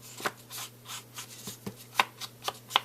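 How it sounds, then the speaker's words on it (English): Tim Holtz Old Paper distress ink blended onto paper edges, a series of soft, rhythmic brushing and rubbing strokes, close and faint over a low steady hum. "I'm going to go ahead and ink my edges, and I'm just using Tim Holtz old paper"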